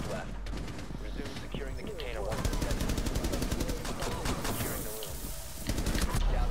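Gunfire in a ranked Rainbow Six Siege match: rapid bursts and single shots crack close and loud through the whole stretch, with players' voices now and then.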